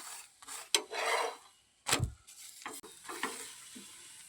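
A carrot halwa poli is roasted on a hot pan, giving soft sizzling and scraping in uneven bursts as it is pressed and turned. The sound is close and fairly quiet, with short pauses between strokes.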